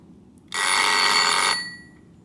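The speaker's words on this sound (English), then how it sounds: "Now I want to demonstrate how you can turn the bell ringing alarm off if you wish." A Jaeger LeCoultre musical alarm clock's bell rings in a dense metallic trill for about a second, then is cut off abruptly, in a quiet room.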